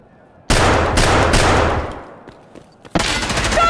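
Gunfire in Tarkov Arena, a loud close burst of rapid shots that rings out and decays, a short quiet gap, then another sharp burst of shots.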